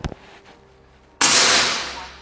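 Single shot from a Marauder Grand Kinto PCP air rifle firing Hercules pellets, one sharp loud crack followed by a brief decaying report, preceded by faint handling noises.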